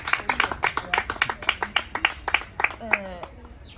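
An audience claps in scattered, uneven bursts during a gift presentation at a charity event in Africa, with voices talking over the applause.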